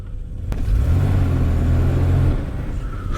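A BMW E34 barn-find car engine revs up into a loud, rough rumble that holds for under two seconds and then drops back to idle, heard close up with no talking.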